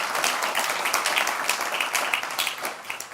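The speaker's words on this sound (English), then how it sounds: "Let's give him a big round of applause." A meetup audience at the OWASP London Chapter claps after a talk, brisk fairly loud applause with distinct individual hand claps, steady throughout and with no talk over it.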